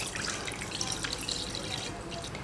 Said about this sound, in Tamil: நான் 3/4 லிட்டர் பால் ஊற்றுறேன்.